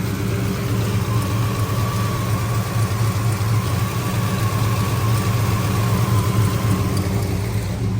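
Car engine idling with electric radiator fans running, a steady low rumble and continuous whirring hum, loud and unchanging throughout with no voices.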